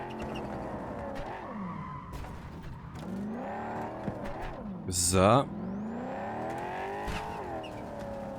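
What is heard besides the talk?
car driving and skidding in Cyberpunk 2077 video game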